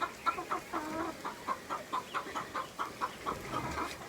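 Hens clucking close by in a rhythmic series of short, evenly spaced calls, fairly quiet with no talk.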